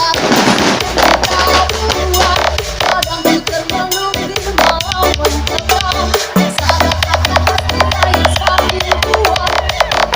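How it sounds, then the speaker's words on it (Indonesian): Dense, continuous New Year fireworks crackle and boom, with rapid popping bursts layered over deep rumbling blasts throughout, loud and close. "Pesta kembang api."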